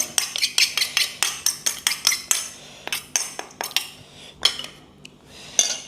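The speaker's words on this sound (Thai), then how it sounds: "เอา ใส่จานเลยครับ" Spoon and cutlery clinking against dishes while pork larb is served onto a plate, a quick irregular run of bright metallic scrapes and taps, close up, thinning out toward the end.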